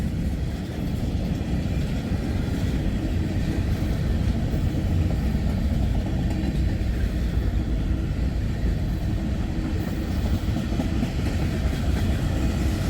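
A CSX freight train hauling tank cars of molten sulfur rolls past in a steady, continuous rumble of wheels on rail, moderately loud and unbroken.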